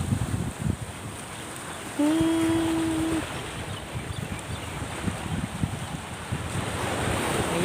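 Sea waves and wind on the beach at Sattahip, Thailand: a steady broad wash of surf and wind noise buffeting the microphone, with a brief whistling tone and faint voices in the background.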